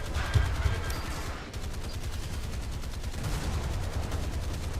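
Naval guns fire in War Thunder, probably during a destroyer battle. A heavy boom opens the clip and a dense, rumbling barrage of gunfire follows it, loud and continuous.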